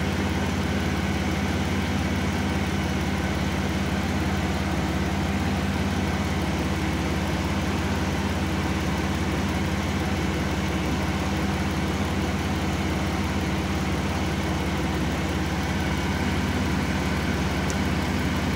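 A 2012 Town & Country sits idling in a garage to warm up with the A/C running, giving a steady, even engine hum with a constant low drone that holds unchanged throughout, with no voices.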